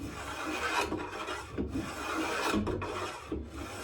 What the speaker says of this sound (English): I grab the trusty spoke shave and I draw it along like this.